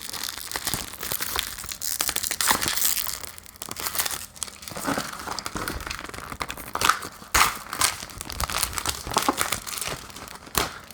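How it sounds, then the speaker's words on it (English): Plastic wrap being torn and crumpled off an Anker Soundcore Life Q30 headphone box, a close, loud run of crinkling and ripping bursts lasting throughout with no talk. "And you just rip all this plastic off."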